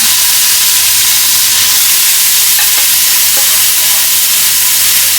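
Cooked green peas tipped into a hot pan of frying mustard seeds and curry leaves for kappa biriyani, producing a loud, steady, hissing sizzle with faint stirring scrapes throughout.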